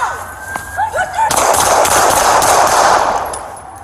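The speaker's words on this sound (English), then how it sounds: "shots fired, officer needs help" Gunfire erupts during a police standoff near Silver Lake and the 101 freeway in Los Angeles, with a female suspect holding a handgun: a dense volley of sharp, loud shots rings out close by after a brief lead-in of voices and sirens.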